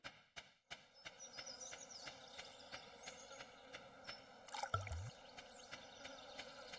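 Water poured onto the ground outdoors, heard as one short splashing gush partway through, set against a faint, steady background with a few small knocks.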